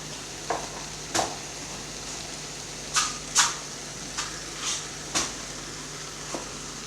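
A pinch of asafoetida drops into dal tadka over a quiet, low sizzle, with a handful of sharp spoon clinks and scrapes against the pan spaced irregularly through the clip.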